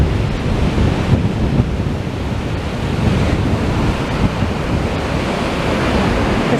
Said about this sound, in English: you can listen to the sea for a bit.